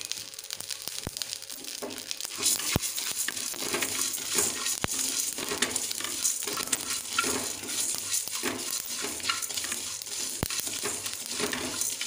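Cumin seeds, fenugreek and pepper dry roasting over low heat in a pan, with a continuous dry rattle and scratchy stirring broken by occasional sharp taps of a spoon against the metal.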